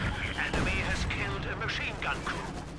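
Mortar rounds land in the World War II strategy game Company of Heroes 2 as a series of sharp thuds and crackling blasts, sounding under a caster's excited commentary.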